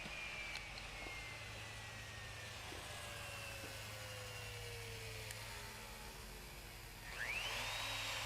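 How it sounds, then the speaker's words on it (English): A router fitted with an upcut spiral bit and fence cutting tenon waste from wooden breadboard ends, a steady high motor whine with a pitch that slowly drifts and a louder cutting burst near the end. "an inch upcut spiral bit set up with a fence on my router, and basically I'm just using that to cut the waist out for the tenons"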